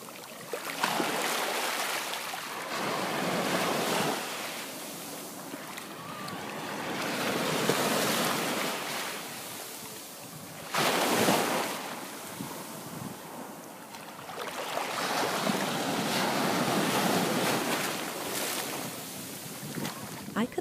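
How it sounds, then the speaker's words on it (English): Ocean waves crashing onto a beach in Kauai, a broad continuous roar of surf that swells and recedes in long surges, with wind noise across the microphone and no voices. "That was the sound of waves crashing at the beach in Kauai."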